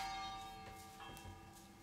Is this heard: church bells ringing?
yes